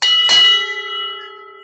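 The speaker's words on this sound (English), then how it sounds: "I installed a bell, like a ship's bell, a big brass bell, on my shelf" A big brass ship's bell mounted on a shelf struck once, a loud, close clang that rings on with a long, fading hum.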